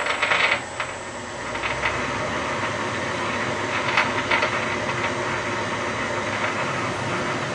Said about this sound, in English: Now we're cutting threads.